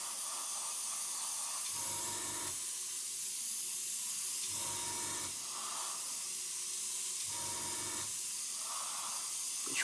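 Bursts of hissing airbrush spray, applying white paint through a mask, come in short, even pulses separated by quieter gaps, steady and close.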